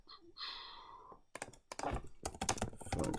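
Programmer typing code on a computer keyboard, a soft quiet patch giving way to dense bursts of close, crisp key clatter with uneven rhythm.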